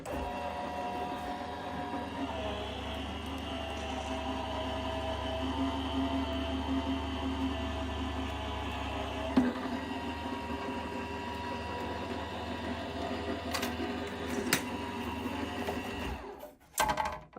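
A die-cutting machine hums steadily as a papercraft sheet is rolled through it, a low motor drone lasting many seconds before it stops with a few clicks and clunks.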